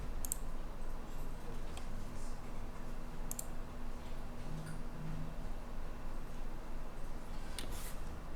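Keyboard typing and mouse clicks over a remote-access session on a computer, heard as sparse, faint clicks and taps over a steady low hum, with no voices.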